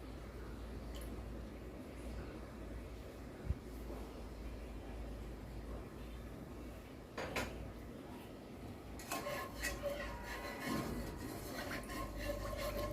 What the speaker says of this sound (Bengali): কনডেন্স মিল্কটা দিয়েও আমি ভালোভাবে দুধের সঙ্গে মিশিয়ে নিচ্ছি